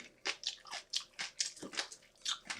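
Close, quiet bites crunch through food with crunchy bits, about ten crisp bursts in an even chewing rhythm with no talk.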